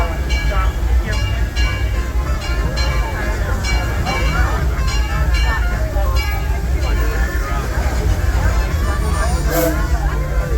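A Disneyland Railroad train rumbling along steadily with clattering rails and a brief squeal, while people chatter in the background.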